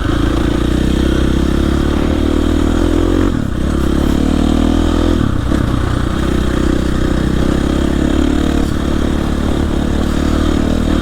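A dirt bike engine drones steadily and loudly up close while riding power-line trails in central Maine, the note dipping briefly twice as the throttle eases, with faint clatter over the constant motor.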